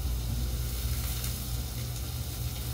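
Flounder frying in a pan, a steady, close sizzle and crackle of hot oil that holds even throughout, with no voices.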